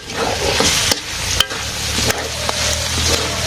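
Garlic sizzles in hot oil in a pan while being stirred, a steady close frying hiss broken by a few sharp scrapes and clinks of the spoon, with no talking.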